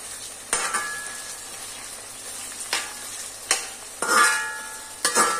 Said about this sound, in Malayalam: ഈ സവോള അങ്ങനെ തന്നെ ഈ മീനിലിടുമ്പോൾ ഒരു രസമില്ല. അതുകൊണ്ട് അതൊന്ന് വാട്ടിയിടുമ്പോൾ